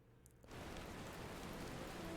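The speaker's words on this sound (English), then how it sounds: "Ah, nice rain." Steady rain falls in the Final Fantasy XIV game world, starting abruptly after a brief quiet moment and then holding as a dense, even hiss of raindrops on surfaces, with no voices.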